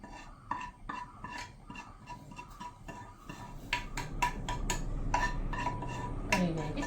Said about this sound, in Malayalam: കറിയിലേക്ക് ചേർത്ത് നന്നായിട്ടൊന്ന് ഇളക്കി